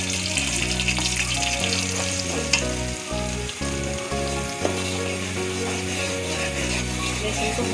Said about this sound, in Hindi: घी गर्म हो चुका है। अब हम इसमें इलायची के दाने डालते हैं।